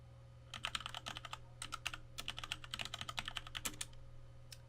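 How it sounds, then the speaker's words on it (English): Keys clatter in quick, uneven bursts as a password is typed on a computer keyboard, close but quiet over a steady low hum, with no talk. "If I type it right."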